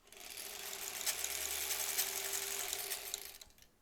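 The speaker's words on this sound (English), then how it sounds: "Yep, it's still sewing." A home sewing machine runs in one short burst while stitching fabric face masks, a quiet steady whir that starts and stops cleanly.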